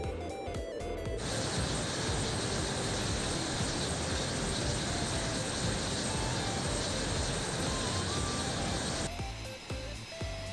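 An F-22 Raptor fighter jet flies in Microsoft Flight Simulator, giving a loud, sustained engine roar with a bright whine that holds steady for about eight seconds before cutting back.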